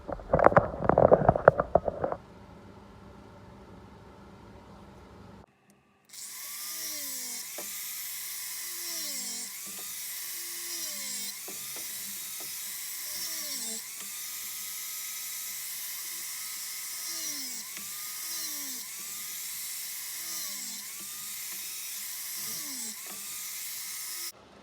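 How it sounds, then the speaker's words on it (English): A fume extraction fan runs in a workshop during a snapped piston ring removal, a steady airy whir holding for about twenty seconds with faint repeating mechanical chirps, after a short burst of clatter at the start. "I'm going to turn the extraction on as well."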